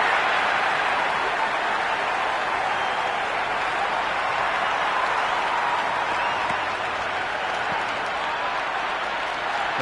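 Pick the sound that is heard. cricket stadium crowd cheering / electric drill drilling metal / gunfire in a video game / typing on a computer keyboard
cricket stadium crowd cheering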